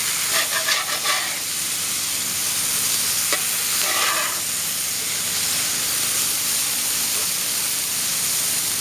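Food cooks on a Blackstone Adventure Ready 17-inch portable tabletop griddle, a continuous even hiss and sizzle with brief scraping bursts early on and around four seconds, then settling into a steady close steam-like fizz.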